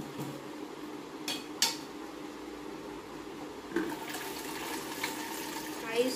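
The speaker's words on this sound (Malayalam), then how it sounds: "ഇനി നമുക്ക് ഇതിനകത്തോട്ട് ഐസ് ഇട്ട് കൊടുക്കാം." Ice from the fridge, mixed with a little water, is dropped into a dried tin, giving a few sharp clinks and clatters followed by softer rattling and sloshing, fairly quiet throughout.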